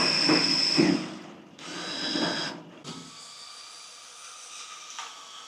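A power drill whirs while mixing sugar syrup solution for bee feed, running in two loud bursts that briefly stop, then settling into a steadier, quieter spin near the end.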